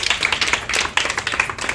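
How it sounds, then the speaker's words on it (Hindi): Audience applause at a Lions Club installation ceremony in Kolkata, a dense, continuous patter of many hands clapping with uneven surges, close and fairly loud throughout. "जोरदार तालियां, जोरदार तालियां"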